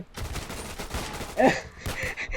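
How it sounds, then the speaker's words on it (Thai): A grenade thrown by an enemy bursts in a first-person shooter battle, one heavy blast rising out of rapid gunfire and chattering combat noise over a short, busy stretch. "เมื่อกี้ศัตรูมันปาระเบิดมา ตรงที่ผมอยู่นะครับผม"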